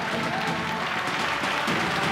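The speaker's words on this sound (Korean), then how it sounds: "여러분 한 번 더 힘찬 박수로 환영해 주시기를 바랍니다" An audience claps hard at a promotion ceremony in an academy hall as new star masters are welcomed onto the stage. The applause is dense and steady, filling the room for the whole stretch.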